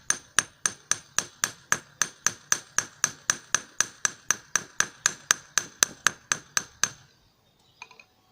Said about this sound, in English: the end piece of the spiral will need to be flattened out a bit extra in order to stop the wire wrap from slipping